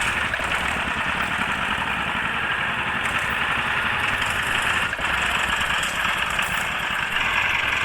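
A tractor engine idles in an Indian tractor simulator game, a steady, fairly loud mechanical drone that holds an even level throughout.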